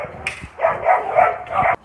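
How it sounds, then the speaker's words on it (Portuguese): Dogs barking nearby in a quick, uneven string of sharp, yappy barks, with no talking. "olha os cachorros"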